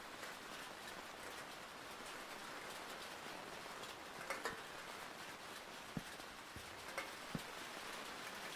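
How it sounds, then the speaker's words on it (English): Steady rain falls in a modded Minecraft survival game, a dense even hiss of patter with a few sharper drop-like clicks and pops scattered through it, continuous and without talk. "lightning struck during heavy rain"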